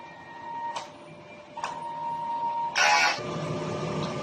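A DTF printer runs a print head cleaning cycle, with a steady mechanical hum, two short clicks, then a louder burst of whirring before it settles back into a running drone.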